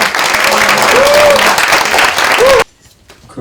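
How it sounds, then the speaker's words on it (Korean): A press-conference audience gives loud, dense applause welcoming party leader Moon Jae-in, with a few voices calling out, then it cuts off sharply into quiet. "여러분 큰 박수로"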